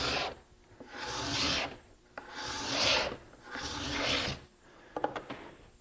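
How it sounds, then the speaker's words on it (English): A cabinet card scraper shaving ripple and mill marks off a wood board, giving four rhythmic rasping strokes with short pauses between, close and clear, ending in a few light taps. "by angling it slightly again, it will ride over and just shave off the high spots of those ripple"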